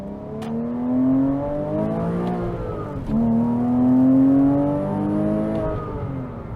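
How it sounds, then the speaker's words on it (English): Boxer engine of a 2007 Porsche Cayman S with a six-speed manual, driven in the rain, revving up in two rising pulls with a gear change between, exhaust note droning close and loud with no talk. "Exhaust sounds real good. I love that noise. These boxer engines"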